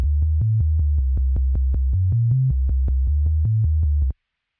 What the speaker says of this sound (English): which is a synthesized sine wave bass that's programmed to match the notes of the bass line